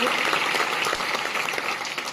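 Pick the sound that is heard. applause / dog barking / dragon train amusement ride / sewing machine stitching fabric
applause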